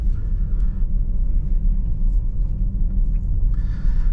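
A 2024 Porsche Panamera 4 on the move, with a steady low engine and road rumble from inside the cabin, continuous and fairly loud, with no talking.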